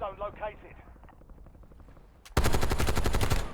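Automatic gunfire in the video game Warzone breaks out suddenly as a loud, rapid burst of shots after a stretch of quieter game sound and talking.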